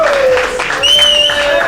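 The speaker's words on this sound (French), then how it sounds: "Je vais maintenant déjà demander un tonnerre d'applaudissements pour Elvis" Audience applause for Elvis at the Groutte Tour 2024 closing ceremony, a continuous crowd clapping with a few cheers, heard close and fairly loud throughout.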